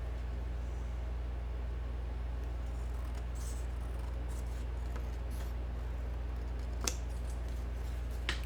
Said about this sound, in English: looks like I'll need to cut a lot more off this side